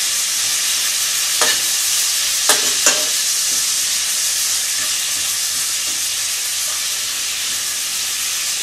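Food caramelizing in a frying pan for patty melts gives a dense, continuous close sizzle with a few faint clicks from the utensil near the start.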